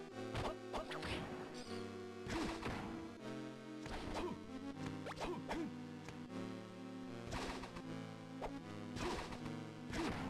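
Repeated smashing hits from the Castlevania: Harmony of Dissonance game, sharp crashes and whacks recurring every couple of seconds over a steady chiptune-style background.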